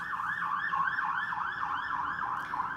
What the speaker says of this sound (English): we got sirens going on down the street